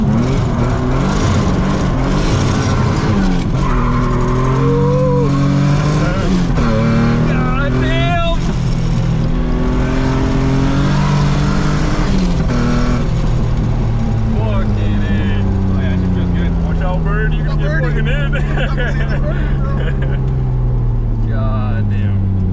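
A Nissan S13 fitted with an R32 differential street drifts, its engine revving hard and loud with rising and falling pitch, bouncing off the limiter and shifting gears, while voices talk over it.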